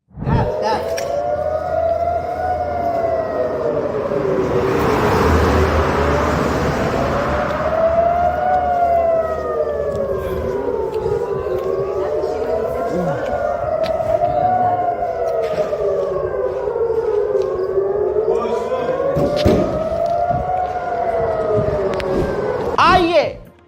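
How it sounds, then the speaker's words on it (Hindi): An incoming-missile warning siren in Israel rises and falls in a continuous loud wail, cycling repeatedly for over twenty seconds during an Iranian missile attack, with faint crowd and street noise beneath. "जब इनकमिंग मिसाइल का सायरन बज रहा था"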